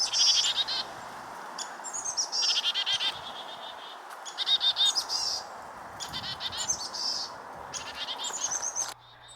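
Black-capped chickadees give repeated bursts of high, buzzy alarm calls in rapid series, close and clear, with short pauses between each burst over faint background ambience.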